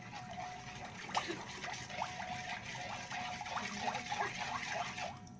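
Powdered milk is whisked into cold water in a bowl, a quick run of light, rhythmic liquid swishes and soft clicks, close and fairly quiet, with no talking.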